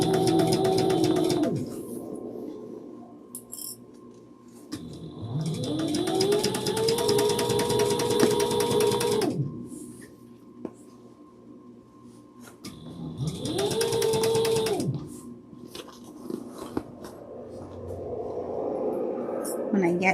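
A sewing machine stitching binding onto a quilted tote bag, with its motor whirring up in pitch and running in several long bursts separated by pauses.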